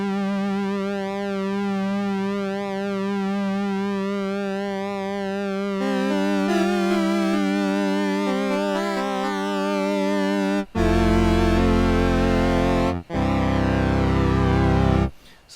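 A Polymoog synthesizer tone warbles and sweeps in pitch through frequency modulation, then shifts into a buzzier, stepping pattern with abrupt jumps, loud and electronic with no voices.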